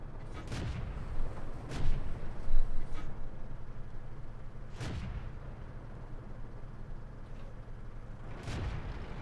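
A Cruiser Mk. IV tank in World of Tanks fires its gun to blow apart a building, giving four heavy booming shots spaced a few seconds apart over a low rumbling background.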